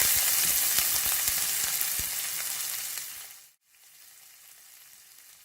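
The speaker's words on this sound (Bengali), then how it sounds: "একটু নেড়ে কষাবো যাতে পেঁয়াজের গন্ধটা চলে যায়" Onion paste stir-fries in a pan for chicken curry, giving a bright, steady sizzle with scattered stirring taps for about three seconds before it cuts off abruptly and a quieter hiss follows.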